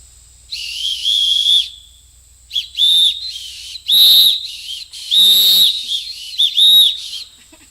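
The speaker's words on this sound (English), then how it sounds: "Emergency whistle." Emergency whistle blown in a series of shrill, piercing blasts, one long held note followed by several shorter bursts of varying length, loud and close, with no talk.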